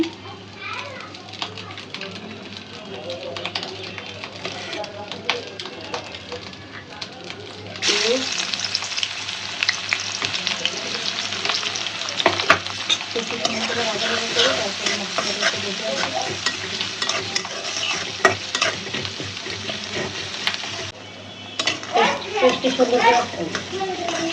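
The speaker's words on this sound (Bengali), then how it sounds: "পেস্টটা খুব সুন্দর করে ভাজা ভাজা হয়ে গেছে" Ginger-garlic paste fries in hot oil for a tengra fish curry, giving a steady, dense sizzle that grows louder midway, with stirring scrapes and children's voices and chatter in the background.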